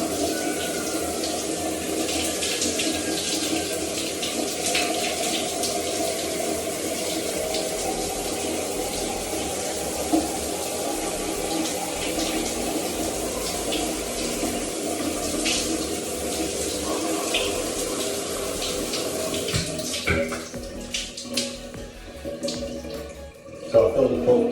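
Lukewarm tap water running steadily into a cup, a continuous splashing hiss that carries on unbroken with slight clatter near the end, and no talk.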